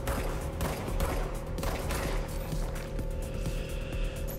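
Gunfire in the game Control, a steady run of rapid sharp shots over a constant humming drone, moderately loud and continuous without speech.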